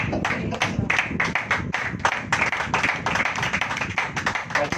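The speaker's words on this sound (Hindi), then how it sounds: "ताली बजाओ।" An audience claps at a church sermon, a dense run of overlapping hand claps at a steady, brisk pace, close and fairly loud, with no voices over it.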